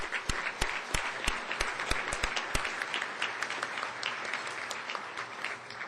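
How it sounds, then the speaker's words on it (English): A community audience at a city address applauds steadily, dense clapping sustained throughout with a few sharp, close individual claps standing out. "So let's give ourselves a round of applause."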